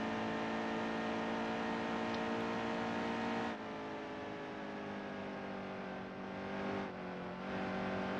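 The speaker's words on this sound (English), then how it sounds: "Okay, so yeah, listen to the engine sounds." A race car engine in the NASCAR Heat 2 video game holds a steady, loud, buzzing drone. Its tone shifts abruptly twice as the in-game camera view changes, and there is no talking.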